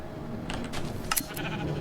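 Sheep bleating in the Minecraft video game, a few short nasal bleats rising over a quiet game background, fairly soft and close.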